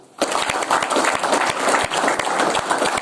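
Audience applause at a Nepali talk on living for others breaks out after a brief quiet start and holds as a dense, steady wash of many hands clapping for about three seconds.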